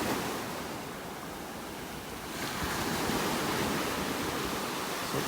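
Ocean waves roll and break on a beach in North Naples, Florida, with rough surf giving a continuous loud wash and wind noise across the microphone, with no voices.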